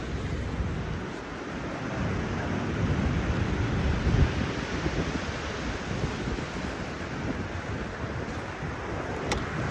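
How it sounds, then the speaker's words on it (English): Ocean surf rolls onto a beach in a continuous wash of breaking waves, mixed with heavy wind buffeting the microphone throughout. "Now let's go look at the ocean, guys."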